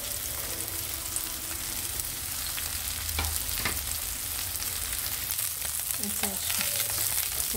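Lepo fish coated in masala and semolina fry in a pan for a Goan dish, making a continuous soft sizzle with occasional scraping stirs and light clinks, no voices.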